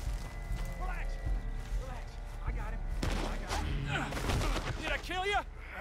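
Gunfire at an escaping man in the video game Red Dead Redemption 2, several sharp shots cracking out amid hoofbeats and a horse's whinnies, with voices speaking over parts of the fray.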